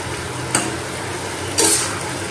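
Potatoes with salt and turmeric frying in a covered pan, with bori added: a steady soft sizzle throughout, broken by two brief sharper bursts.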